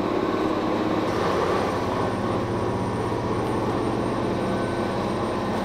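A local train on a Japanese line arriving at a station platform, a continuous loud rumbling and humming of the railcars with a steady mechanical drone and no speech.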